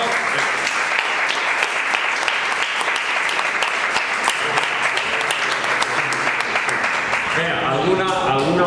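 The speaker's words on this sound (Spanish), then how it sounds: "Le damos un aplauso ya a este mocico de Irún" Audience at a book presentation in Andújar applauds in a loud, sustained round of clapping, and a voice begins speaking over it near the end.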